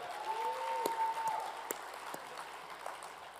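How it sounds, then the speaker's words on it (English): Audience applause after remarks at a Republican Jewish Coalition leadership summit, a fairly quiet, steady patter of clapping from a moderate crowd over a few seconds with a faint tonal hum behind it. "let's clap it up for that"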